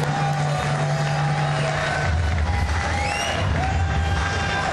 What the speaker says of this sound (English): Big applause for Mansur